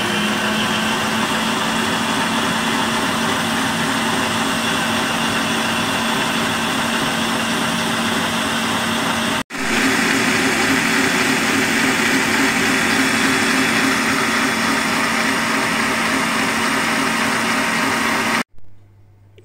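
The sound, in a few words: electric mixer whipping cream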